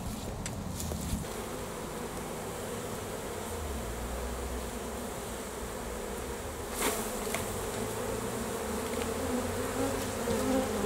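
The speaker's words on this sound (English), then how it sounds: "take the bees out of this super into that spare one that was on top of it" Honey bees buzz steadily and densely at close range while being shifted from one hive super into a spare super on an allotment, a continuous insect hum with no talk.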